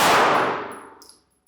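One loud shot striking a steel target during a close-range shooting drill, a sharp ringing clang that decays over about a second, followed by a faint metallic tick.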